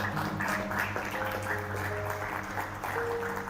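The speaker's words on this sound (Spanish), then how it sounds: "Dale un aplauso al Señor" A church congregation applauds in praise of God, a steady wash of clapping beneath sustained organ or keyboard tones and faint voices, continuous throughout.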